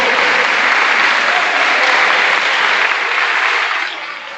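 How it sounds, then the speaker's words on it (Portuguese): A church congregation applauds together at a Holy Communion service, a dense, loud, steady wash of clapping that holds evenly and then eases slightly near the end. "para dar uma salva de palmas a Ele"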